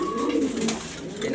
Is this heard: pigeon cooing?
yes